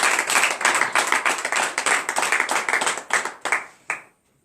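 A church congregation at a morning prayer service clapping together in a fast, steady rhythm, loud and close, that thins out and stops after about four seconds.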